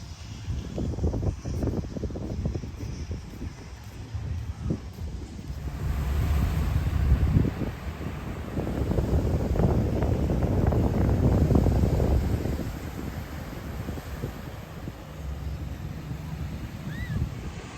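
Steady sea breeze gusting across the microphone at the beach with the low rumble of surf behind it, swelling louder in the middle, no voices.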